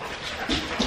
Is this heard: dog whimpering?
yes